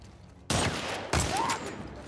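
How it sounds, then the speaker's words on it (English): Two loud, sharp bursts of gunfire from an unseen enemy in The Last of Us Part II, each followed by a ringing decay, close and booming with no voices. "I don't like it when I'm shot at from an unknown direction."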